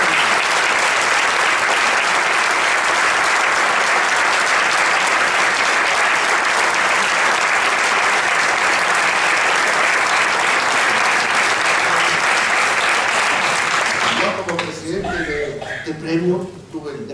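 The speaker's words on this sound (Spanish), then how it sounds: "yo para empezar les pediría un aplauso" A long, loud round of applause from an audience at a bullfighting-culture event, dense and steady for about fourteen seconds before tapering off as a voice begins speaking.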